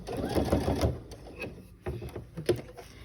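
A sewing machine stitches along a gallon edge in short close bursts of mechanical whirring and clatter, with brief pauses and light handling noises between runs.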